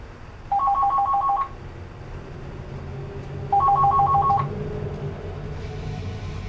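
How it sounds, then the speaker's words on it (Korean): A telephone rings at night in an amusement park in two short electronic bursts about three seconds apart, sounding over a steady low background rumble. "공구를 진짜 딱 집는 순간 전화벨 소리 울리는 거예요."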